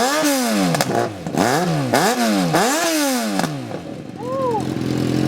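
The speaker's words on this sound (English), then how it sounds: "I'll give it a rev so that way they can listen to it." A motorcycle engine is revved repeatedly up close, with several sharp, rising and falling throttle blips in quick succession before it settles back to idle.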